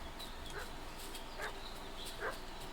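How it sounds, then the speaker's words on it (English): A dog in the Kingdom Come Deliverance II video game barks three times at spaced intervals, faint and distant beneath a hissing background. "What's that dog making such a fuss about?"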